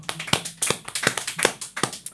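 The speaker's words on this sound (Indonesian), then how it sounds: "Tepuk tangan semua untuk Marco" Hands clap at a steady, even beat for Marco, each sharp clap distinct and fairly close, with no voices over them.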